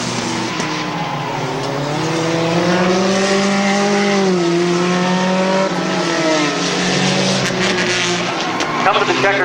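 Race cars on the final lap at Midvale Speedway, engines droning and rising in pitch as they come off a turn toward the finish, loud and sustained, with an announcer talking over them.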